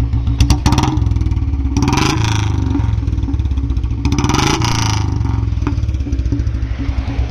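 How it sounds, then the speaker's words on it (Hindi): A Royal Enfield Bullet 350 with a C-bend exhaust pipe idles with a throaty exhaust burble, revving up twice in loud surges before settling back, very close. "तो भाई अभी आप लोग एग्जॉस्ट नोट सुनो"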